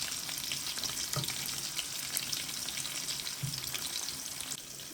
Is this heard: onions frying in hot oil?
yes